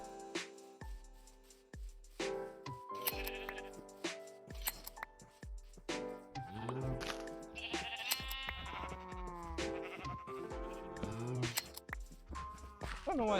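Sheep bleating in Minecraft, a series of loud, close, wavering bleats from several animals in quick succession, mixed with blocky game sound effects and footsteps, no voice over them.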